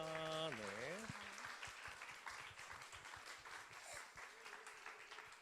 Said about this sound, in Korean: 올라오실 때 큰 박수 부탁드립니다